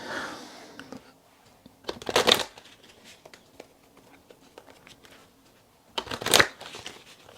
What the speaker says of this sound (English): Do some lap shuffling.